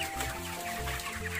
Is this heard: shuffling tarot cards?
no